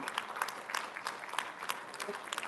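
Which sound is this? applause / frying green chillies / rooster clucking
applause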